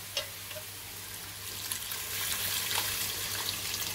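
Water pours into a hot pot for mutton paya soup with a steady hissing rush and faint sizzling, growing slightly louder toward the end.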